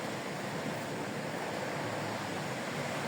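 Constant surf from the sea at an ocean front facing toward Honduras, a dense, steady rushing roar mixed with wind, fairly close and unbroken, with no voices.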